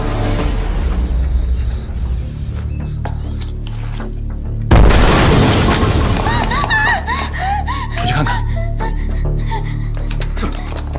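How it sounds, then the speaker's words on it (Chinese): A loud burst of an explosives blast in a period Chinese drama, a sharp boom followed by rumbling debris and crackling, with a gasp beforehand and whistling, chirping effects trailing after. "那边有炸药爆炸"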